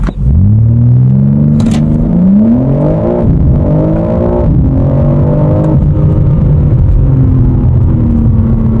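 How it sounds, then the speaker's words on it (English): A BMW M4 launches hard and accelerates, its engine note climbing steeply through rising gears with brief dips at each shift, loud and close with a deep rumble underneath, no voices. "There is no way to convey on camera how hard this car launches."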